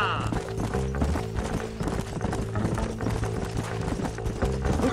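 Horses gallop in Red Dead Redemption with fast, rhythmic hoofbeats, layered under a game soundtrack and voices. The thundering clip-clop is loud and continuous throughout.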